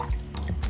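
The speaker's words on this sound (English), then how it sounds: "turn off the heat and pour in the vinegar or lemon juice" Vinegar or lemon juice poured into heated plant milk in a pot, heard as a brief, close liquid splash and trickle lasting under a second.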